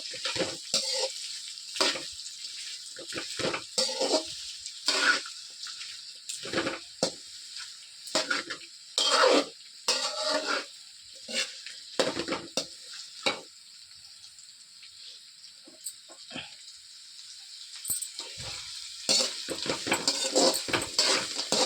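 Onions and green chillies fry in hot oil in a pan, with a steady sizzle broken by repeated scraping and clinks of a spoon stirring against the metal, close and fairly loud, no voices.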